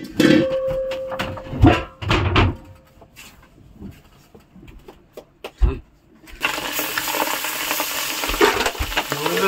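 Fish coated with turmeric and salt fries in a pan aboard a fishing boat, with a few clattering stirs and knocks before a steady loud sizzle takes over.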